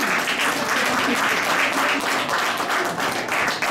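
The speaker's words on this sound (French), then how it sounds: "On l'applaudit." Audience at a community meeting applauds the newly named treasurer, a loud, dense burst of clapping filling the room without a break from start to finish.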